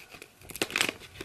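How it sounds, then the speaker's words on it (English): Scissors cut into a crinkly plastic Minions Mega Bloks blind bag, giving a short burst of crisp crinkling and snipping up close. "So I'm going to open it with my trusty scissors."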